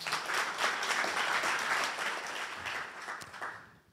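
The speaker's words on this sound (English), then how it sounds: "give Tim a big round of applause" A conference audience applauds a panelist at a business talk, a full wash of many hands clapping that holds steady, then tapers off and fades to quiet at the end.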